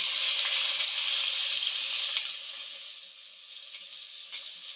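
A ground paste of peanut, onion, ginger and garlic fries in hot oil, giving a steady, bright, close sizzle that eases slightly partway through.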